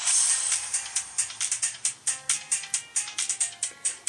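The NCIS TV theme as a phone ringtone: rapid, sharp percussive hits in a steady driving rhythm, bright and metallic, playing alone for several seconds.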